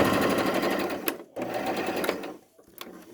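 A sewing machine stitches a fabric mask in steady, fast bursts, pausing briefly twice as the seam is started and back-stitched, close and alone with no talking.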